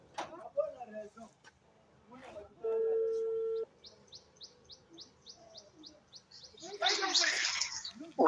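An outgoing phone call rings with a single steady ringback tone lasting about a second, set among chirping birds and some nearby voices.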